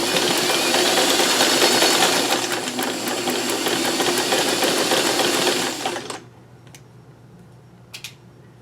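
A sewing machine stitches fabric in a steady, loud, continuous run for about six seconds and then stops, leaving a quiet room with a couple of faint clicks near the end.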